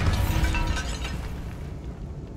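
Bombarda blasting spell going off in a fantasy video game: a loud, booming burst that swells at the start, then settles into a long rumbling decay with no speech over it.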